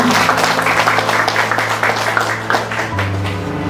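Audience applause for the Dandim at a community gathering on stunting prevention in Kampung Yopanggar: a loud, sustained wash of clapping over a steady background hum, with faint voices mixed in.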